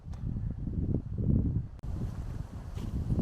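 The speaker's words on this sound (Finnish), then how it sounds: "Tänne reunalle saarta osuukin tuuli nyt aika hyvin." Strong wind gusts at the edge of an island in the Hytermä nature reserve, buffeting and rumbling across the microphone in loud, uneven surges with a sharp dropout partway through.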